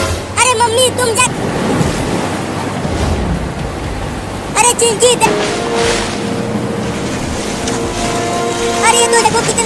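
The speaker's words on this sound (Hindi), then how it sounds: "देखो कितनी तेज बारिश हो रही है और बिजली भी गिर रही है" Steady heavy rain roars across a village during a thunderstorm with flooding, a dense continuous wash. A voice calls out briefly and other voices talk over it.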